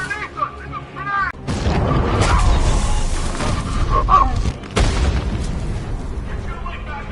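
A grenade explodes in the video game Batman Arkham Knight, with loud booming blasts and a long rumbling roar between two sharp hits, as game characters shout over the noise.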